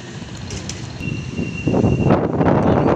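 A Sydney D set double-deck electric train at Redfern station rumbles and creaks on the rails, a steady mechanical roar growing louder and nearer in the second half, with a brief high whine in the middle.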